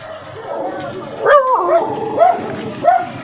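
A dog yips and barks several times in short bursts, fairly close, over a noisy background with some voices.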